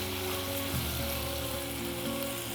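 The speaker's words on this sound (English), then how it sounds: "you want the liquid from all the meat to be evaporated when you're frying it off" Meat frying in a hot pan with a steady, dense sizzle and crackle, continuous and close, with no talking.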